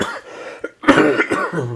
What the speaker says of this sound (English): Excuse my cough again.